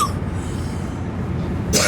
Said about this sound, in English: I'm a hacking and a coughing